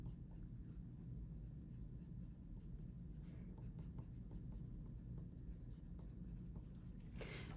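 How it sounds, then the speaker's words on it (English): Pen or pencil writing a name on a paper sheet while copying a watercolor techniques worksheet, a soft continuous scratching that runs steadily throughout over a low background hum. "So name, and you could just write Watercolor Techniques."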